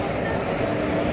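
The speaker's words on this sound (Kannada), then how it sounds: "ನಾವು ಬಂದ ಟ್ರೈನ್ ಇದು ಇಂಜಿನ್" An electric train locomotive stands at Mangaluru railway station, its steady low rumble and broad mechanical hum filling the platform continuously and fairly close, with no distinct beats.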